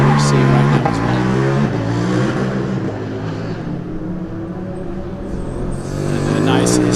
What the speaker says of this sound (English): a nice historic Esslingen car on the test track with a lovely sound